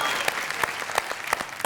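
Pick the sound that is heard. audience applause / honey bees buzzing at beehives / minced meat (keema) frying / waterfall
audience applause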